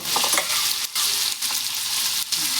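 Vegetables sizzle loudly in oil and butter on a hot tawa, a dense close crackle broken by a few brief stirring scrapes, with no talking.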